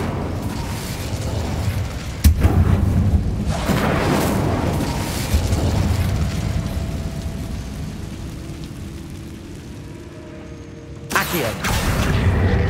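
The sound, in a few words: Incendio fire spell being cast, from a Harry Potter video game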